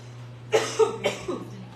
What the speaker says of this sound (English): I'm going to cough quick.